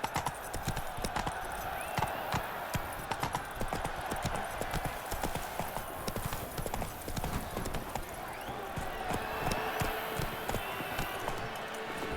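Horse hooves gallop steadily in The Witcher 3, a continuous run of clip-clop beats with occasional snorts, close and loud for the whole stretch.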